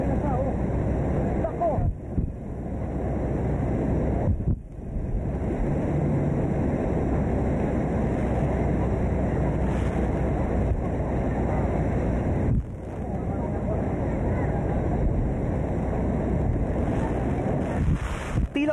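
Typhoon Nesat winds roar and buffet the microphone as floodwater surges past, a loud continuous rush with a few brief drops, and a voice can be heard over it at times.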